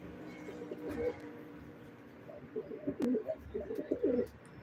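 Pigeons at a live pigeon auction coo nearby in soft, throaty bursts, several rolling calls repeating over a low background murmur.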